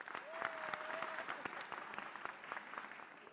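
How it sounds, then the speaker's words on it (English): A round of applause at an agricultural symposium: scattered, moderately dense clapping from an audience, fairly quiet and distant-sounding, with a brief tonal whistle-like note early on and no talk over it. "a round of applause"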